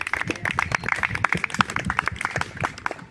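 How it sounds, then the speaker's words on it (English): Kenyans and friends gathered in a park applaud Ambassador Hellen Gichuhi as she returns to her seat, a steady patter of many hands clapping at moderate distance, fairly soft and continuous for a few seconds. "Please clap for Balozi that she goes back to her seat."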